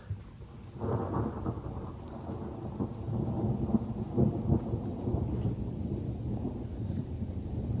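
Thunderstorm rolling over a wooded state park, long deep thunder rumbles building and fading amid steady rain patter, with some wind buffeting the microphone and no voices.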